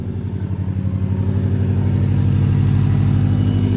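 A car engine with 77,000 miles on it idles steadily in a garage, a loud, close, even low rumble with a faint pulsing that holds throughout, no voices.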